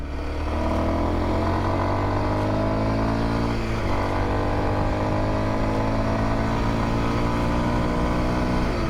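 A 2022 Kawasaki KLX230S ABS motorcycle held at full throttle, its engine droning loud and steady with a rising whine and one gear shift partway through, continuous and close without talk.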